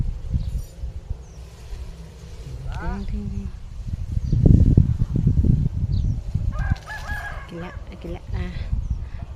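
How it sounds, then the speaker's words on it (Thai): A rooster crows twice, calling out in a field behind a house amid steady outdoor rustle, while someone talks nearby. "ขันจ้า"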